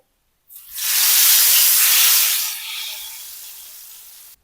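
Hot tadka tempering poured into Kashmiri dal sets off a sudden loud sizzling hiss that holds strong for a couple of seconds, then settles into a softer, steady sizzle, with no talking.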